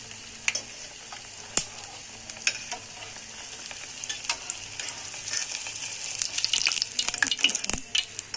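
Paneer pieces frying in hot oil, a soft crackling sizzle with scattered sharp spits and pops that grows busier toward the end, close and fairly quiet with no voices.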